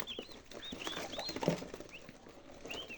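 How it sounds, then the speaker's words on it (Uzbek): Young chicks peep repeatedly in thin high chirps amid soft shuffling and clucking from turkeys on a farm, a faint, busy chatter of poultry with no voices. "Kurkalar ham bezovta bo'lib qoldi"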